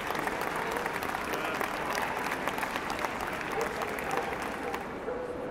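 A ringside crowd at a dog show claps steadily and loudly, a dense, continuous applause that barely changes for several seconds.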